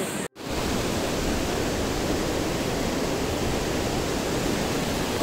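Hot spring water at Manikaran pours into the Parvati River as a loud, unbroken broadband roar that starts after a brief cut near the beginning and holds steady close at hand.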